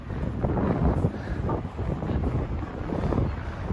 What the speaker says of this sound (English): It should be really nice and windy for the people who cannot handle the wind noise.